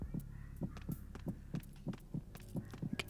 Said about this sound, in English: can you hear Snake's heartbeat?